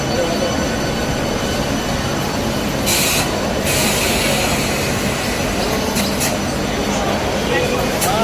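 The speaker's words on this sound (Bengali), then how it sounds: "সকাল 9:30 নাগাদ শিয়ালদা স্টেশনে ঢোকে সেই এসি লোকাল ট্রেন।" An AC local train on the Bangaon–Sealdah line pulling into Sealdah station in the morning, a loud continuous rumble of wheels with brief high squeals, and voices murmuring underneath.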